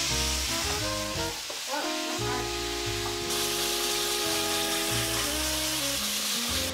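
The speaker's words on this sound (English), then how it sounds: "We're gonna add some ground beef into this and get that sauteing as well." One pound of 90-10 ground beef sautéing in a pot beside pushed-aside vegetables, a steady close sizzle and fry with scraping stirs and a soft music bed running underneath.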